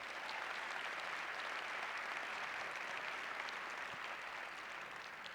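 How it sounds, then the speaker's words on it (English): Conference audience applause fills the room, dense steady clapping from many hands at moderate distance, holding evenly for several seconds without voices. "Let's give them a big round of applause."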